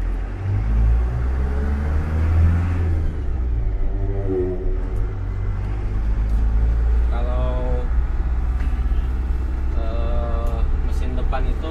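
A front-engine medium bus rumbles low and steady, its revs rising and falling as it accelerates, while people talk over the noise inside the vehicle.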